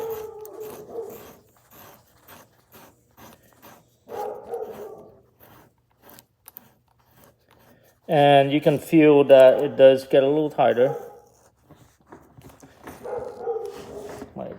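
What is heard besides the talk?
dog barking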